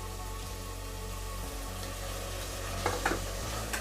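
Prawn biryani masala stirred in a pan with turmeric and coriander, giving a steady sizzling fry with scraping stir strokes near the end, no talk.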